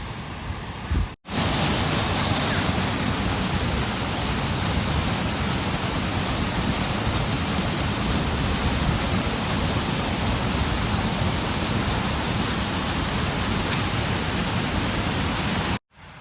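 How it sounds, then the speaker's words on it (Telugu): A waterfall with strong water flow on the Gephen Lake mountain trek roars as a loud, dense, unbroken rush, cut briefly near the start and at the very end, with no voices. "ఇప్పుడు ఎలా కిందకి వెళ్ళి ఆ వాటర్ ఫాల్ అయితే దాటాలి. వాటర్ ఫ్లో అయితే కొంచెం ఎక్కువ ఉంది"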